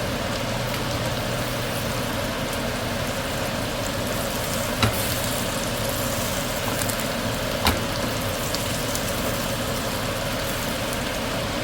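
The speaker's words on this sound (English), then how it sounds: "baste the melted butter over the fish as it cooks" A trout fillet frying in melted butter, a steady close-up sizzle and crackle running evenly throughout, with two sharp taps or clinks standing out along the way.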